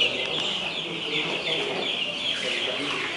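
A flock of free-range Bankiva-line chickens clucks and chatters steadily and fairly close, a dense overlapping clamor of hen calls that fills the whole moment, set at an outdoor agricultural poultry delivery.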